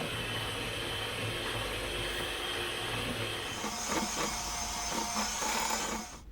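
Soft butter and sugar whisked together for cake batter, a steady close mechanical whirring drone that shifts tone partway through and cuts off at the very end.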